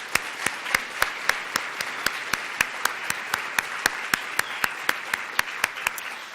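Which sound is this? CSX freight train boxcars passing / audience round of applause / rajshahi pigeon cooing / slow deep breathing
audience round of applause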